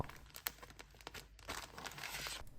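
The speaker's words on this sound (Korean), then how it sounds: "공기를 최대한 뺀 뒤에 지퍼를 잠가 주세요" Soft plastic crinkling and rustling, a zipper bag of chili powder being pressed to remove air and sealed, close up and fairly quiet, with a few sharper crackles.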